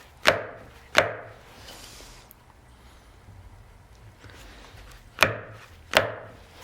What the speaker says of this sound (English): you can hear when your chisel is as deep as it's going to go with that move